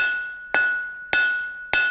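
Three evenly spaced ringing hammer blows strike hot steel bar stock on an anvil while a hot chisel is forged, each a loud, bright metallic clang that decays with a sustained high ring.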